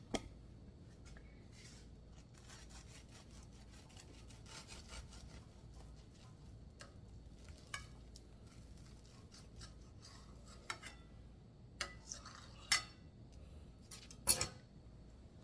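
A knife saws through homemade diner-style patty melts, with quiet, steady scraping and rasping strokes, a few sharper clicks near the end, and no talking.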